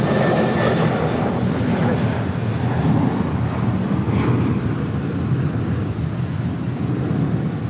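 A Delta Airlines Boeing 737-800 jet airliner at LAX bound for Kansas City gives off a loud, steady engine roar that fills the whole stretch without a break, close and broad.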